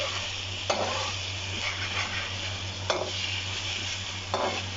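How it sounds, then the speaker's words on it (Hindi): Garlic and ginger fry in a pot with a continuous sizzle over a low hum, and a few scraping stirs come at intervals. "अब इसमें लहसुन अदरक ब्राउन हो जाए तो फिर मैं बाकी चीज़ें डालती हूँ।"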